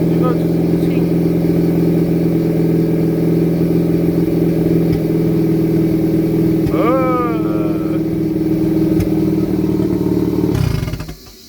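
A car engine runs rich at idle, giving a loud, steady, rumbling hum close by that holds for about ten seconds before cutting off abruptly near the end.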